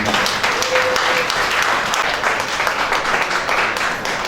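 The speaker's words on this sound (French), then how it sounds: "J'aimerais qu'on applaudisse pour Madame Marie-Jeanne Tsambal." Guests applaud at a birthday celebration, a steady, loud wash of clapping filling the whole stretch, with some voices mixed into the crowd noise.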